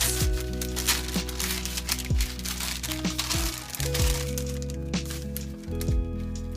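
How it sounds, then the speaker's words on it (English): Baking parchment is handled and pulled taut, giving a run of crinkling, crackling rustles over a steady tonal background with some sustained pitched notes. "There's my baking parchment, so I'm just going to hold it really taut."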